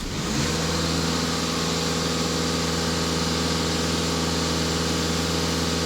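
A VW Passat B8 diesel engine runs at raised revs, giving a steady, close, continuous drone with a constant pitch and no voices.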